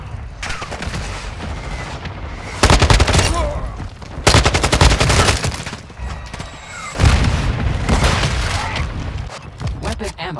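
Call of Duty MWII combat roars with heavy automatic gunfire and booming grenade blasts in several loud bursts, while voices call out over the fighting.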